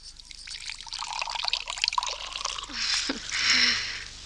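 Drinking water is poured into a vessel as a radio play sound effect, a splashy, bubbling stream that swells and then trails off, heard close and without talk.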